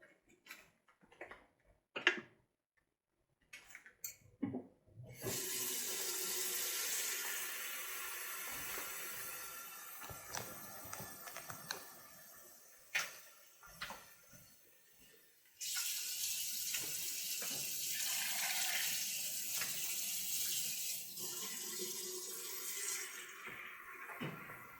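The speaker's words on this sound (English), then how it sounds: "And then I'm going to cover my greens in water." Tap water pours into a cooking pot to cover greens, a steady hissing gush that starts after a few light kitchen clinks, pauses briefly, then resumes strongly, close by with no talking.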